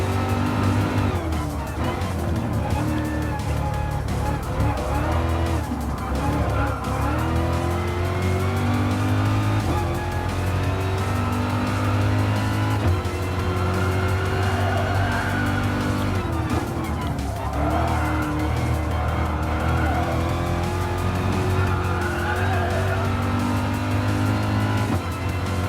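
A BMW M6 Gr.3 race car in Gran Turismo Sport roars steadily around the Le Mans circuit during an hour-long race, engine note rising and falling through gear changes with occasional tire squeal, continuous and loud.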